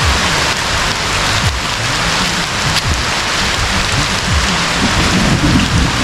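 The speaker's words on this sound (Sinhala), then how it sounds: "වැස්සක් යනවා" Steady rain pours over a jungle, a dense continuous hiss of drops on leaves and ground with a distant low rumble of thunder running underneath throughout.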